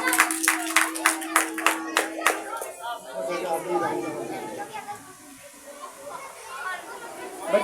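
Applause and chatter at a children's 14 August school program: a run of sharp, evenly spaced hand claps over crowd murmur, fading after a few seconds into lively background talk and children's voices.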